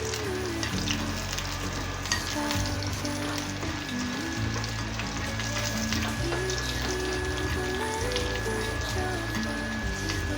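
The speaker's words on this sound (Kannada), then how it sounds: "ಬ್ಯಾಡಗಿ ಮೆಣಸು ಇದು ಫ್ರೈ ಆಗಲಿ" Byadgi dried red chillies fry in oil for a drumstick curry, producing a constant crackling sizzle that runs the whole time beneath steady, prominent background music.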